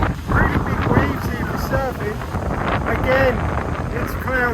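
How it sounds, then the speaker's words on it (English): Strong wind buffets the microphone on a beach in Siargao with big surf, a continuous rough rumble with gusty swells, while a person talks over it. "Very windy."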